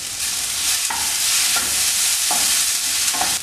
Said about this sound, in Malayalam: ഇടയ്ക്കൊന്ന് തുറന്നു നോക്കി ഇളക്കി കൊടുക്കുകയും വേണം